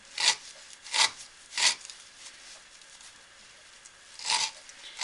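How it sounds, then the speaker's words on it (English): A thin neck knife with a 1/16 inch blade saws through a single lay of rope in three quick rasping strokes, then a pause and a fourth stroke, close and crisp with no speech. "But you can cut this rope"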